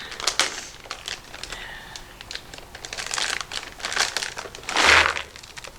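Plastic bags of walnuts and pecans crinkle and rustle up close, a steady run of crackling handling noise that swells near the end, with no voices.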